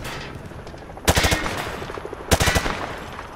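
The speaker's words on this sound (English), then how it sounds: "Grab that weapon off the table and fire at the targets behind you." Two short bursts of rapid rifle fire at a firing range in Call of Duty MW2, each a loud close volley of several shots separated by a pause.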